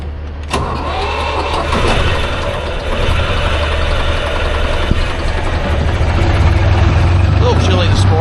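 A semi truck's diesel engine idles while warming up on a chilly morning, a loud, steady low rumble with a sharp click near the start and a slight rise in pitch later on.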